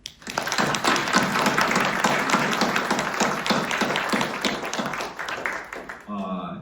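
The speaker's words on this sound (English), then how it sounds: "Please join me in a round of applause for our organizational chair, Jennifer Yen." A room full of people at a political organizational meeting claps together in sustained applause for several seconds before it fades out.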